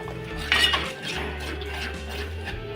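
A spoon clanks and scrapes against a pan while homemade masala is sautéed for a Maharashtrian black fish curry; one sharp metallic scrape stands out over a low, steady background hum.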